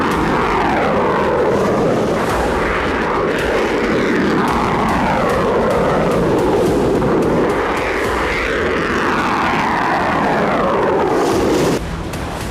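Ukrainian military drones flying over Crimea at night, a loud, continuous droning engine whine that rises and falls in pitch, with dull thuds and rumbling mixed in and no voices.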